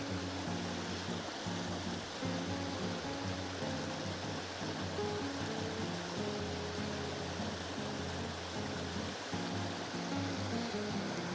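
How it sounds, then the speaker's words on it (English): Water of a mountain stream at the Fairy Pools on the Isle of Skye rushes and burbles continuously over rocks in a steady, full stream, with no voices. "That sound of running water."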